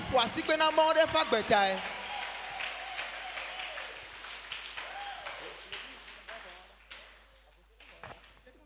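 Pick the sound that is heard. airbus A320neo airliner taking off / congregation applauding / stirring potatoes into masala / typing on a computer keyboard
congregation applauding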